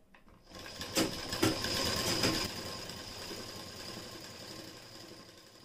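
A sewing machine runs a straight stitch along the folded side slit of a kurti. A couple of sharp clicks come first, then a steady whirring hum that fades slightly as it goes on, with no voices.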